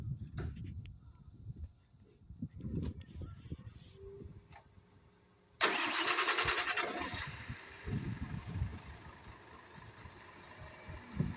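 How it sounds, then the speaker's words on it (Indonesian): A dump truck engine starts with a sudden loud surge and keeps running at a steady, rough idle, close by, after a stretch of quieter clatter and background noise. "kita coba running unitnya dulu"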